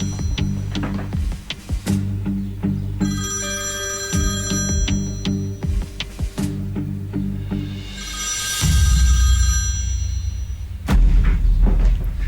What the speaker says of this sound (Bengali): ফোনটা ধরতে হবে আমাকে